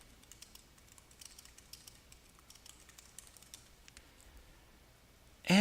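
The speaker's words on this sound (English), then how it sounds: "type in your information" Light, rapid keystrokes on a computer keyboard patter in quick irregular bursts, faint and close in a quiet room, ending in a sudden louder noise at the very end.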